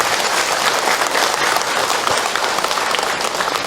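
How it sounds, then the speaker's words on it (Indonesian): A crowd of women at an Islamic religious talk breaks into loud, dense applause that runs without a break from start to finish, close and full. "Tepuk tangan buat ibu-ibu semua."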